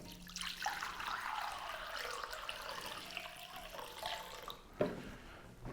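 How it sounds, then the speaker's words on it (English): Water pours steadily into a floral design base, a continuous splashing trickle for several seconds that ends in a brief sharper splash near the end, fairly quiet and close, with no speech. "first thing then is add some water"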